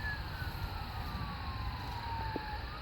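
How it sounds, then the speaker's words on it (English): A police car siren wails faintly in the distance, its pitch sliding slowly downward over steady background rumble. "we got more sirens coming here"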